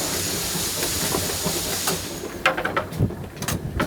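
Steam locomotive pulling away from a station platform, with steady loud hiss and rumble, then sharper bursts of steam exhaust and clanking, close by and with no voices.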